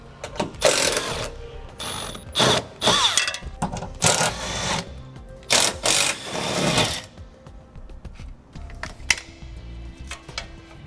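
A power driver with a 3/8 socket backs out the screws holding a panel on a 2017 Forest River Rockwood trailer, in repeated loud whirring bursts separated by short pauses, close up and without talk.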